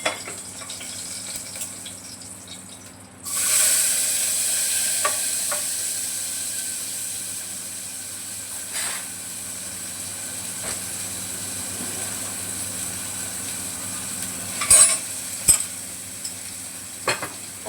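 Frying in a small amount of oil in a pan, part of a chicken dish with tomato, starts abruptly after a quiet few seconds as a steady hiss, with occasional soft clicks and scrapes of stirring near the end.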